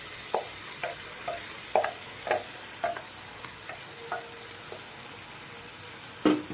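Onion paste frying in hot oil with masala for a fish curry, a steady sizzle broken by repeated scraping stirs of a spoon against the pan, close and moderately loud with no voices.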